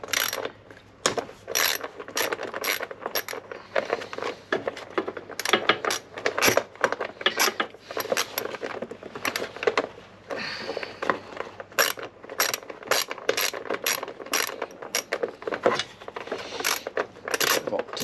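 A socket ratchet loosens 10mm bolts on a Royal Enfield Himalayan 411, with repeated bursts of rapid metallic clicking, loud and close, broken by short pauses and tool clinks.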